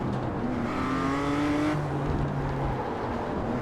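A video game race car engine whines and shifts pitch steadily, revving up then dropping after a gear change, with a continuous mechanical drone.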